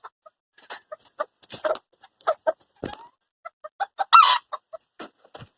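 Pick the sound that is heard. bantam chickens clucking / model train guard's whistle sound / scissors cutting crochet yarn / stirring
bantam chickens clucking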